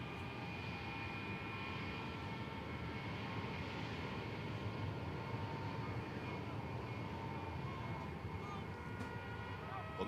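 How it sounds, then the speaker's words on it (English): A Y-20 transport aircraft gliding in to land from west to east on a runway, heard as a steady, faint, distant engine drone with a constant broadband roar and tonal hum throughout, and no clear voices. "From the west to the east, Y-20 is gliding, and it's taking a turn on the eastern side of the runway."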